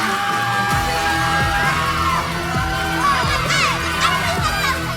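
A crowd cheers as Erica comes out on stage, a steady wash of whoops and yells with scattered high shrieks and sharp bursts rising and falling over a constant roar, with a few soft thumps underneath.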